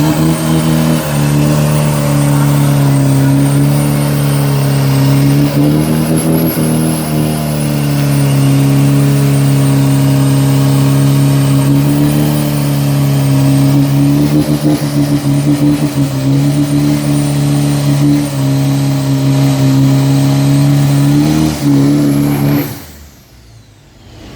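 A street truck roars through a qualifying drag run at Bangkok Drag Avenue, its loud engine holding a sustained droning howl for over twenty seconds with slight pitch shifts before cutting off abruptly near the end.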